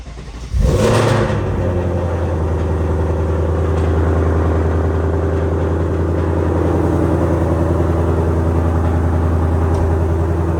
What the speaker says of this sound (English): I'm gonna turn off my car and I'm gonna start the car. It's gonna be loud.